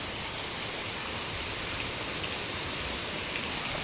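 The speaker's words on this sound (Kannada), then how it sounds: "ಫುಲ್ಲು ಜೋರು ಮಳೆ" Heavy rain pours down steadily, a dense even hiss of drops striking surfaces, loud and continuous with no voices.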